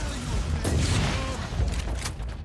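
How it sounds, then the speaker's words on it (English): A large explosion in the Warhammer 40K: Inquisitor - Martyr video game, a loud booming blast with rumbling crackle and debris bursts rolling on for a couple of seconds. "That was a big explosion."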